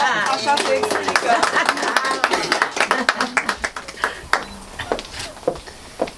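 Audience clapping at a book launch in a bookshop in Calafat, starting under overlapping talk and then thinning into scattered, distinct individual claps near the microphone toward the end.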